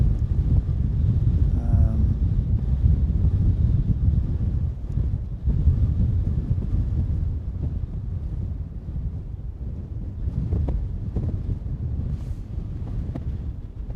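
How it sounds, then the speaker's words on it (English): Strong wind blows steadily across an outdoor microphone at a hilltop mound for the whole stretch, a loud continuous low rumble with gusty buffeting and no talk. "It may have to do with the amount of wind that's coming through."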